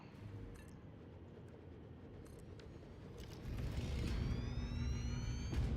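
A coal train in the Satisfactory video game rumbles along steadily at low level, growing louder and heavier partway through, with faint metallic squeals and clicks over the running noise.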